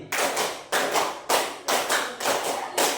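Students in a group clap a rhythmic classroom clapping pattern, with sharp bursts of hand claps in regular beats, close and clear, with no talking.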